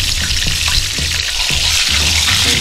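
Pork chops fry loud and close in a hot skillet on a Camp Chef outdoor stove, with dense, continuous crackling and bubbling oil and no talking.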